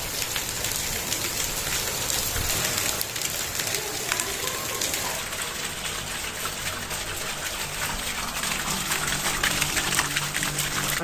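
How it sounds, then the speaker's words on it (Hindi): Steady rain pours down outdoors, building gradually heavier as snow begins to fall, a dense, continuous hiss with constant drops on surfaces and no pauses. "ये देखें बारिश जो है ना वो आहिस्ता आहिस्ता तेज हो रही है।"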